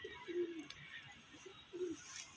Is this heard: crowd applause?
no